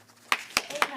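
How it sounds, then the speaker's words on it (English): Scattered audience members at a city council meeting clap in a few sharp, spaced claps that stand out near and distinct over a quiet room. "All right, stop clapping."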